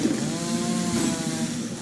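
A chainsaw weapon revs steadily in the Rivals video game during a 2v2 match, a continuous buzzing engine drone that stays loud and even for about two seconds with no talk over it.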